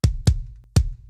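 Modern and Massive kick drum sample for an emo/pop punk mix: three sharp, deep thuds with a bright click attack, in an uneven rhythm, close and dry with no other sound.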